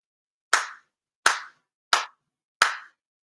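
Four sincere ceremonial hand claps at a monthly Shinto ceremony at Chula Vista Kōsha Tenchi Kane no Kami, sharp and close, evenly spaced about two-thirds of a second apart, each ringing briefly in a quiet room.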